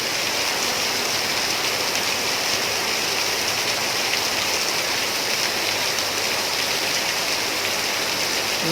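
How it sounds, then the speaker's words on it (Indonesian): Heavy rain pouring down in Malaysia during flooding, a dense, loud, unbroken hiss of falling water that stays steady from start to finish. "Hujannya sangat deras."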